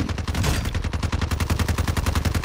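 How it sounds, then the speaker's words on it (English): A Lockwood 300 fires in Call of Duty Warzone, a rapid, evenly spaced string of sharp shots in steady rhythm, loud and close. "I'm shooting all these guys."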